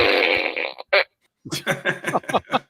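A loud, drawn-out fart sound effect from a sound button is followed by a short pause, then a series of rapid, sputtering fart blasts.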